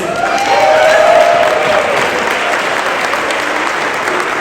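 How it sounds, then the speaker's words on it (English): Loud, dense audience applause for the Raging Grannies at a policy and budget conference: sustained, even clapping from a large crowd, peaking early with a brief whistle or cheer, then holding steady. "I want to give another round of applause to the Raging Grannies"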